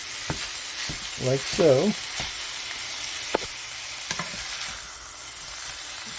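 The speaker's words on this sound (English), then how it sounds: "We're going to break up this hamburger." Ground hamburger meat sizzles in a hot pan while it is broken up, the frying hiss broken by scraping stirs and a few clacks of a utensil, with a brief voice speaking near the end.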